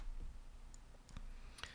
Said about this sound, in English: it's quite simple, clicking and dragging with the mouse.